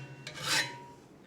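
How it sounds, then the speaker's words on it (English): Metal file rasping along the edge of a folding shovel blade, a single short close stroke that swells and fades, alone with no talk. "Okay, so I will start by filing my edge"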